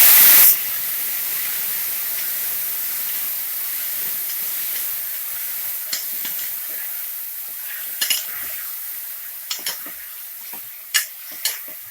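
Chopped tomatoes frying with onions in a pan for heerekayi bele sambar, a steady hiss and sizzle throughout with occasional soft crackles and a brief louder burst at the start. No speech.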